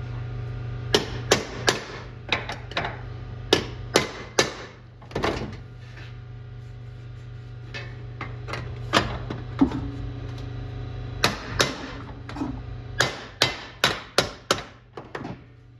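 Repeated metallic hammer strikes ring out in irregular bursts during restoration of a Paperboy arcade machine, some quick and clustered, others spaced apart, over a steady low hum.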